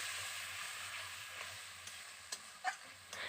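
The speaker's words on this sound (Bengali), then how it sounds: "জল দিয়ে একটু ভালো করে মশলাটাকে নেড়ে চেড়ে নিচ্ছি" A cooked masala spice paste, with water just added, sizzles and hisses in a pan, steady and close, as a spoon stirs it with a few light scrapes and taps, and no one speaks.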